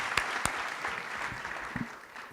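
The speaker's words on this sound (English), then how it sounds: "How about one more round of applause for all those pitchers?" A summit audience claps after pitch presentations, a steady wash of applause with a couple of sharper individual claps near the start, fairly distant and moderate in level.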